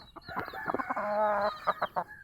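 An old chicken clucks close by in a steady run of rapid, rhythmic clucks, swelling into a drawn-out call in the middle before a few sharp final clucks, fairly quiet and alone.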